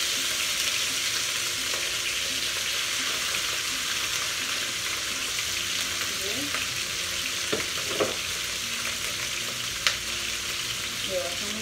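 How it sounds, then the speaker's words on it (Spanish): Meat frying in a shallow film of hot oil in a pan, with a steady close sizzle throughout and a few soft scrapes and stirs near the end, no voices. "y le damos con este para preparar nuestra carne para que se fría bien la carne"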